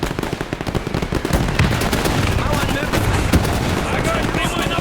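Rapid cannon and heavy gunfire from a World War II battle in the real-time strategy game Men of War II, loud dense bursts and booms pounding continuously, with a voice speaking faintly over the barrage.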